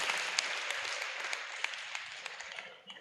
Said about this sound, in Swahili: Simupigie huyo jamaa makofi.